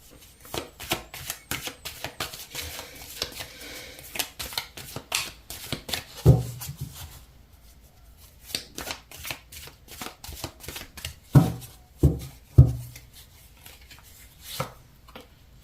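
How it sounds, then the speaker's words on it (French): Tarot cards laid out on a table one after another, producing dense papery flicks and slaps. The snaps come in quick bursts, with several louder thuds as cards land, then a quieter pause partway through. "On va continuer à mettre des cartes."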